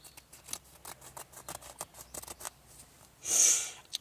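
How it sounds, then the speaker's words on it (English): Quiet paper handling, then a single crisp snip of scissors cutting, close and clear. "So I'll just cut right across the centre here."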